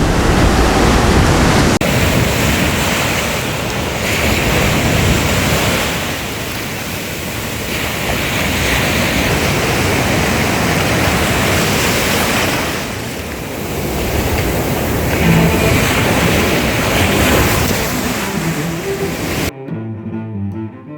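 Sea waves surge on a Bulgarian beach, a loud, continuous roar of surf that swells and eases in broad cycles before cutting off sharply near the end.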